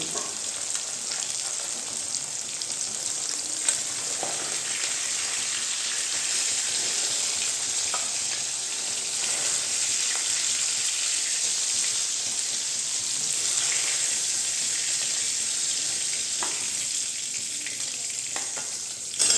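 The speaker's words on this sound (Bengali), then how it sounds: "আমি আরগুলো সেই একইভাবে ভেজে দিব।" Small local boroli fish fry in hot oil with a continuous, close sizzle and crackle that holds steady for nearly twenty seconds, with occasional faint stirring and no talk.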